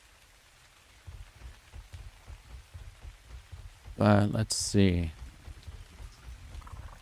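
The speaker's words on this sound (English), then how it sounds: "There's the sound of the rain." Soft, steady rain patters throughout in the video game ARK, with a person briefly speaking over it midway.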